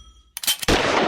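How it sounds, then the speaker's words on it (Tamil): A single sharp gunshot in an animated cartoon bursts in after a brief quiet lead-in, followed by a loud, sustained noisy blast that carries to the end. "சுடுங்க."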